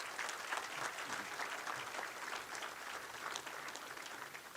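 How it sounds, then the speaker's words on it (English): A banquet crowd at a county touchdown club hall of fame induction gives a final round of applause, steady dense clapping from many hands at moderate distance, with no talking over it. "Let's give all of our inductees one final round of applause."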